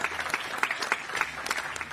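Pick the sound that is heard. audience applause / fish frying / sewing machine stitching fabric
audience applause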